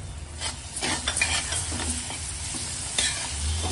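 Chopped tomato sautés in hot oil with spices over a medium flame, a close continuous sizzle broken by scraping and stirring of a spoon against the pan.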